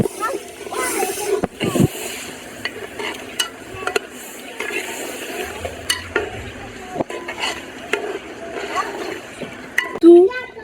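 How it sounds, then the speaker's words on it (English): Fresh tomatoes frying in a pan for a rice and tomato stew in Atakpame, Togo, giving a faint steady sizzle broken by stirring scrapes and clinks of a utensil against the pot, with voices now and then. "we are going to add in the fresh tomatoes and fry"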